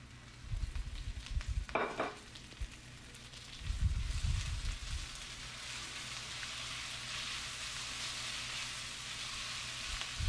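Small chopped tomato drops onto browned onions in a hot pan for bitter gourd (karela) sabzi. A few low thuds and clatters of adding and mixing give way to a steady, soft sizzling hiss.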